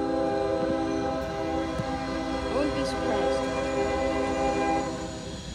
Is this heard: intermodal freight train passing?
yes